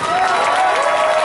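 Audience applause and light cheering for film director Roland Joffe at a cast event, loud and continuous over a brief stretch, with a sustained tone running beneath the clapping.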